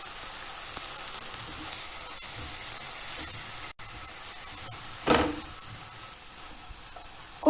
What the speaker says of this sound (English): Cook till the oil starts separating all over.